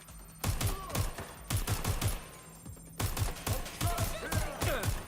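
Rapid video game gunfire plays on a Steam Deck, loud repeated bursts of shots in quick rhythmic clusters with short pauses between volleys, steady and close throughout.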